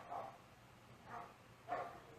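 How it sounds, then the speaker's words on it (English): Dogs bark three times at a slow, even pace, faint and distant against a quiet indoor background, with no talking. "I hope y'all can hear these dogs."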